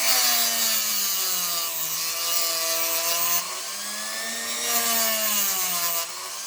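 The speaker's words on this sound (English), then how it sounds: "with my rotary tool, is just cut a little groove into the chassis there to allow the wire to come out underneath the motor mount" A rotary tool grinds a small groove into the metal chassis of a Hornby Battle of Britain class Spitfire model locomotive, a steady high whine that rises and falls in pitch as the load changes, continuous and close.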